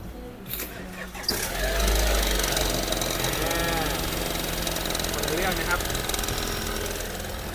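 A BMW petrol engine with a freshly replaced dual-mass flywheel starts with a sharp crank, then settles into a loud, steady idle with a rhythmic mechanical chatter, close by, while someone talks.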